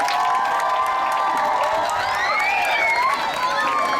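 A hall full of schoolchildren at an abacus interactive day cheers and claps for their school directors: a loud, steady crowd roar with shrill shouts and excited voices rising throughout, no single speaker standing out.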